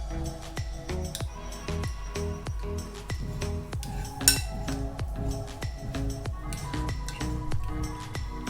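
A spoon mixing cucumber onion raita with coriander scrapes and clinks steadily against a bowl in a quick, regular rhythm, close and fairly quiet, with no voices.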